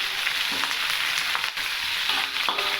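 Pumpkin and chillies stir-fry in hot oil in a pan, with a steady, loud sizzle and soft scraping stirs running throughout.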